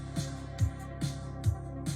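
Yamaha PSR-SX920 arranger keyboard playing an accompaniment style, a steady beat with a thumping kick and hi-hat ticks over a sustained tonal bed, fairly quiet and without talk.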